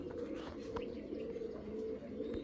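Fancy pigeons of two colours coo softly in low, throaty murmurs, a continuous gentle cooing heard from close by, with no talk.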